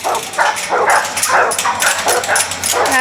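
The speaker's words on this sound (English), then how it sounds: "Goliath is one of the resident dogs." Dog barking at a kennel, a series of short yipping barks and whimpers repeating close and loud.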